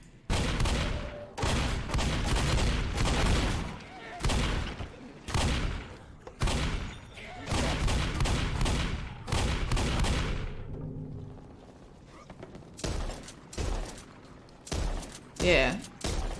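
Gunfire from the video game Back 4 Blood, repeated loud bursts of automatic shots in dense clusters separated by brief pauses, with a quieter stretch midway and sharp single shots near the end.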